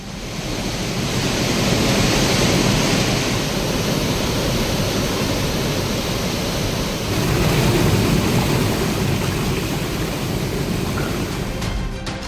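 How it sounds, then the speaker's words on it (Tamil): A waterfall in Kanniyakumari roars with heavy flow after continuous rain, a dense, steady broadband rush of falling water that stays loud and unbroken throughout, with no voices. "அருவியில் நீர்வரத்து கணிசமாக அதிகரித்து காணப்படுவதால் ஆர்ப்பரித்து கொட்டுகிறது."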